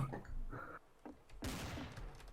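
Gunshots in Garry's Mod Trouble in Terrorist Town, a couple of loud bursts of gunfire, the strongest near the end, with dense overlapping noise between them.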